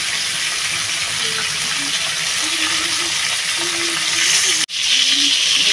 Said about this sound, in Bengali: আমার মাথা ভাজাটা প্রায় হয়ে গেছে।